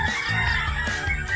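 Chickens on a provincial farm with turkeys and ducks cluck and call close by, a brief, dense cluster of overlapping fowl sounds outdoors.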